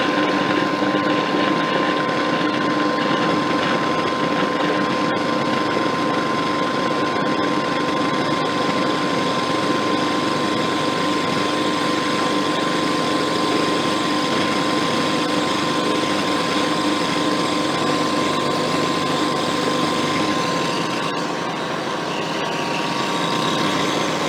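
A Magimix food processor runs continuously while making mayonnaise at a live cooking workshop, a steady whirring motor drone with a constant whine that holds at an even, fairly loud level throughout.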